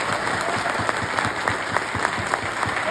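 An audience claps steadily and vigorously, a dense, even wash of applause with no voices standing out.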